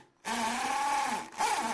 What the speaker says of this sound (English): Now let's do the drilling.